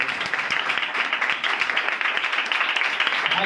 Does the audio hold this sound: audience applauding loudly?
yes